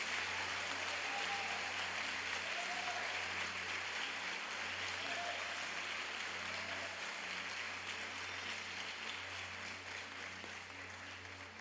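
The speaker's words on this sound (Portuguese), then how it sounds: "Não, mas aplaude bem forte." A church congregation at an evangelical congress applauds loudly in a large hall, a steady, dense wash of clapping that fades slightly toward the end, with a low hum underneath.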